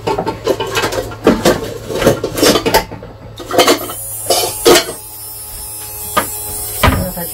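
Intermittent clinks and clatters of a metal pot being handled and set down, several sharp knocks spread out over a steady low hum.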